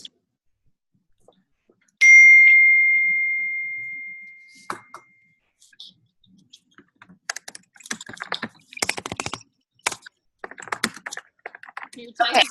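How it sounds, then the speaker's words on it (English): Rapid clicking of computer keyboard keys in bursts, close by, following a single sustained chime that rings out and fades. "You're typing super loud."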